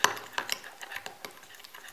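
A spoon stirs a soft, buttery mixture with extra virgin olive oil in a small bowl, making a run of light, close scraping and clinking taps at an uneven rhythm with no talk.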